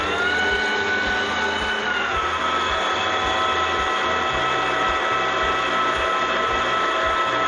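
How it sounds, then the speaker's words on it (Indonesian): Electric mixer whipping egg yolks with powdered sugar for a gluten-free cake batter, a steady loud whirring motor drone with a faint rhythmic rattle, running continuously and close with no speech. "Kita akan mixer sampai dia teksturnya kental berjejak."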